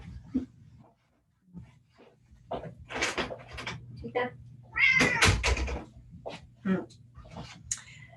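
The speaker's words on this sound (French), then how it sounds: "Alors, c'est mon petit Henri, mon chat" A pet cat meows several times in a quiet indoor room, the calls rising and falling in short bursts with a few soft knocks and rustles between them; no one speaks.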